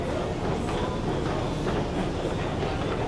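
A train rumbles steadily at Jamaica station on a Long Island line, a dense continuous roar of wheels and carriages with no clear breaks.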